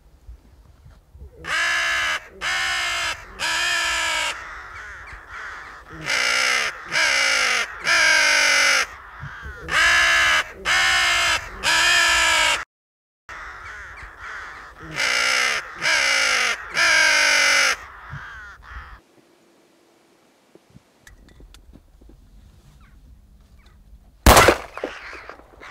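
Hooded crows call during a crow hunt in Österlen, Sweden, giving loud, close runs of harsh caws in groups of three or four, repeated many times, and a single sharp gunshot-like bang near the end.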